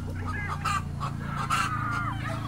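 Repeated clucking and squawking from hens, including a red hen and a naked-neck hen, fairly close, over a steady low hum, with calls rising in short bursts throughout.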